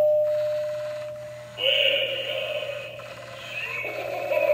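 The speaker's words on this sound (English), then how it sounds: "It's a doorbell." An electronic Halloween decoration doorbell plays bright chiming tones at a moderate level over a steady low hum, with one tone sustained and a second phrase following.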